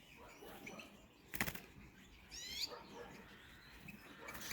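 A small female goldfinch, a local wild bird, is released and flies off with a brief burst of wing flapping, faint and outdoors among light background noise.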